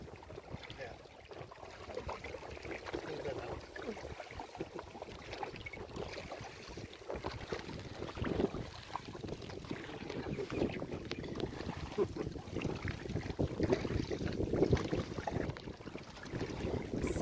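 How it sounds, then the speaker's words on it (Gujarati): A boat moving across Dudhni lake near Silvassa, over water sixty to seventy feet deep, gives a steady rushing drone mixed with wind buffeting the microphone, continuous and fairly even for the whole stretch. "સરસ મજાનું બોટિંગ ચાલુ છે"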